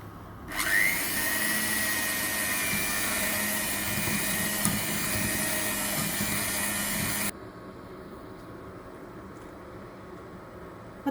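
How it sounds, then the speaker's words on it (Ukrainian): An electric hand mixer whips sour cream and cream for a dried-apple roll. It gives a loud, steady whir for about seven seconds and then cuts off, leaving quiet room tone. "І збиваємо міксером."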